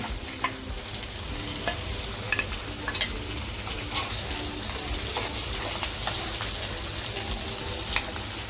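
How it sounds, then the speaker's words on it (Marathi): Coated surmai (kingfish) pieces fry in oil in a pan. A dense, even crackling sizzle holds throughout, with occasional sharp pops and light clicks. "तर बघा आपली सुरमई फ्राय झालेली आहे काढून घेते"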